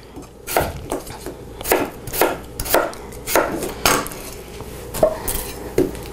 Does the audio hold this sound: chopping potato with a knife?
yes